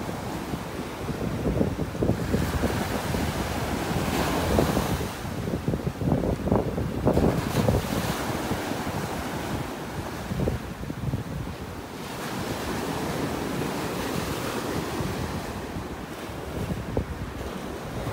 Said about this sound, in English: It is going to be real windy at Wiggins Pass.